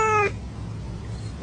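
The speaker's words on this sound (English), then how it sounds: "Here's the cats talking again." Cats meowing in a short social media reel, one clear drawn-out meow at the start, then a quieter second meow near the end over a steady low background hum.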